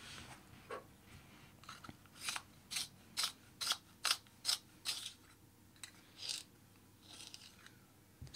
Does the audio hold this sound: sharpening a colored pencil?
yes